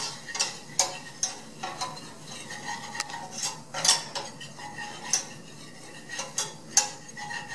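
A spoon scrapes and clinks against a pot in a steady, irregular rhythm as flour is mixed into beef stroganoff, close and moderately loud, with no voices.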